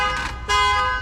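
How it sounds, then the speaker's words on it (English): A car alarm gives short electronic tones, two brief blips in quick succession, moderately loud and alone. "Alarm."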